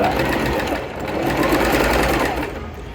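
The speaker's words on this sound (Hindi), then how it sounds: "हम निडल की सेंटर पोजीशन लेंगे और इसमें स्टिच लगाएंगे।" A Singer Fashion Maker 1412 sewing machine stitches with the needle in the centre position. Its motor hums loud and close in a fast, steady, continuous run that tapers slightly at the end.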